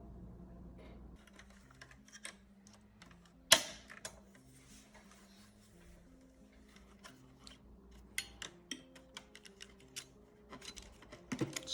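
A driver unscrews Torx screws from the metal disc drive cover of an Xbox Series X: sparse small clicks and scrapes of the tool, with a sharper clack near the start and a cluster of ticks toward the end, no voices.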